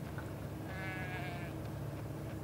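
Sheep bleating on an island during a marathon run, a wavering bleat heard once over a steady low rumble of outdoor background noise.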